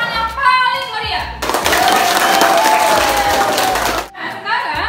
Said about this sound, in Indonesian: Kalau senang, coba kasih tepuk tangan yang paling meriah.